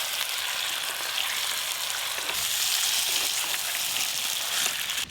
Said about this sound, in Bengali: মাংস ভাজা হয়ে গেছে, এবার তুলে নেবো